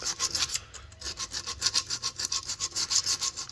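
Hand-sanding curb rash on a car wheel rim, quick rhythmic back-and-forth rasping strokes, close and steady, with no voices.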